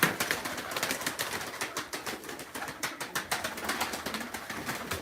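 A flock of pigeons, including speckled gökbenek birds, shuffles and coos nearby in a quiet, steady mix of soft calls and rustling movement.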